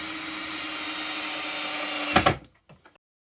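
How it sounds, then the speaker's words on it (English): A power drill whirs steadily at close range, then stops abruptly, followed by a few faint knocks and clicks before silence. "She doesn't like the sound of drills and screwdrivers."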